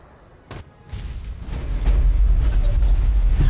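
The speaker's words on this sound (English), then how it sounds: "We'll fire in a couple of the thermobarics because they're the most damaging we've got against turrets." Thermobaric rounds fired at a Calliope turret in the mech game RogueTech: a sharp launch crack, then rising rumbling booms that swell into a loud, sustained low roar of blasts.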